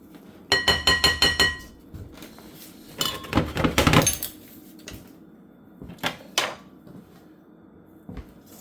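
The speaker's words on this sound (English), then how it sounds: "Incorporate all my dry ingredients with my whisk." A wire whisk stirs the dry ingredients for lemon poppyseed muffins in a bowl, making two loud bursts of quick, rhythmic metallic clinks against the bowl's sides, with quieter scraping in between.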